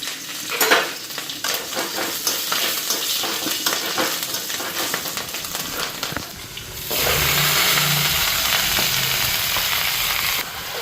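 Bori lentil dumplings and green chillies fry in a hot pan, a steady sizzle with scraping stirs and clinks of utensil on metal, growing into a loud continuous crackle in the latter half.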